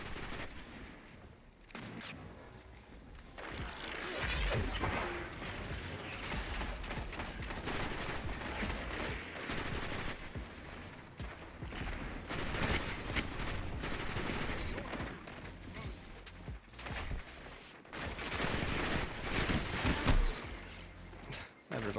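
Rapid bursts of enemy team gunfire in the online shooter Destiny 2 during a PvP match, dense overlapping shots and fusillades sounding loud and continuous throughout.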